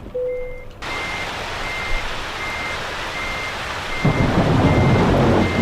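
A reversing Volvo truck in Euro Truck Simulator 2 sounds a steady, evenly spaced beep alarm over a constant wash of rain, with the rain growing heavier and louder near the end.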